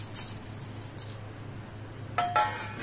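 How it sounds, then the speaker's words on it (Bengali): Cardamom pods dropped into a lightly heated kadai over a gas flame, with mace, give a few sparse, faint clicks and light clinks scattered across a quiet background hum. "এলাচটাও দিয়ে দিচ্ছি।"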